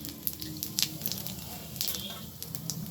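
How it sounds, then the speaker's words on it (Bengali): Cumin seeds dropped into hot oil for tempering, a soft crackling sizzle with small pops, fairly quiet and steady, with faint talk in the background. "ওই তেলের মধ্যে আমি দিয়ে দিলাম জিরে ফোড়ন"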